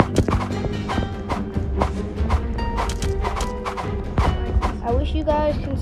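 Donkey hooves clip-clopping in the video game Rumble Quest, a busy run of sharp, close hoof clops mixed with game music and effects, continuous throughout.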